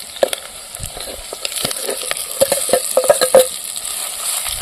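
Onion and curry leaves cook in oil in a pan for drumstick leaf chutney, a soft steady sizzle under repeated light clinks of a spoon stirring against the pan.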